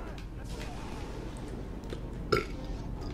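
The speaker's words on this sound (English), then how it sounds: "Oh, that wasn't a good burp." A single short, loud burp from a man playing Star Wars: The Force Unleashed, rising abruptly out of steady game background noise.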